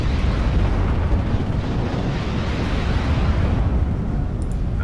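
Artillery bombardment in the WWII strategy game Steel Division: Normandy 44, a continuous heavy rumble of explosions blending into a dense, roaring wash with no distinct gaps.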